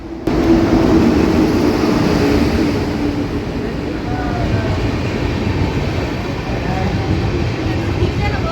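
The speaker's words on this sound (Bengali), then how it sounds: "বিফোর টাইম মানে প্রায় 4 মিনিট আগেই ঢুকে গেল এই ট্রেনটা" The Kolkata–Sairang Express (13125) rolls into a station with a loud, steady rumble and rattle of wheels and carriages, continuous and close throughout with a faint murmur of voices beneath.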